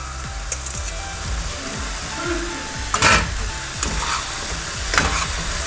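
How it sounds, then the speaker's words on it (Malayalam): Fried chicken pieces sizzle in a pan for a spicy ginger chicken dish, with a steady hiss, scraping stirs and a few louder bursts as the pieces are tossed. "ഇനി ചെയ്യാനുള്ളത് നമ്മൾ വറുത്ത് വെച്ചിരിക്കുന്ന ചിക്കൻ പീസസ് കൂടെ ഇതിലേക്ക് ഇടുക"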